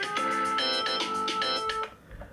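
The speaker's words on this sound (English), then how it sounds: "that was my alarm" A phone alarm rings loud and close, a bright tonal ringtone repeating in short melodic bursts for about two seconds before cutting off into quiet room noise.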